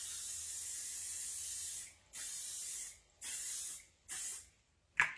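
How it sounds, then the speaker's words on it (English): A L'Oreal makeup setting spray released in four long hissing bursts, each about a second or more, with short gaps between them, close and fairly loud, followed by a brief sharp click at the end. "it looks like hairspray, it smells like hairspray, and it sprays like hairspray"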